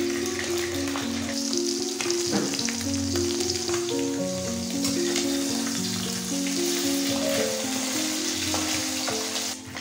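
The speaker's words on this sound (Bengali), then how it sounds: "এখানে তেল গরম হয়ে গেছে, দিয়ে দেব একে একে সমস্ত মাছ।" Small fish fry in hot oil in a wok at an Indian home stove, giving a loud, dense, steady crackling sizzle that continues unbroken, with music playing underneath.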